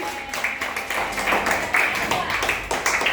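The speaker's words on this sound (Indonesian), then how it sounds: "Oke, boleh kasih Tepuk tangan." Children clapping together in an elementary school classroom, a lively run of uneven claps and taps at close range with some voices mixed in.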